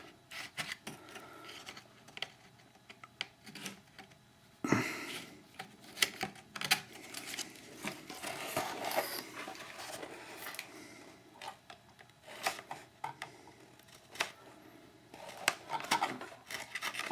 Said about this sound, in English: I solved that problem typically by just shaving these tabs, make them just a little bit thinner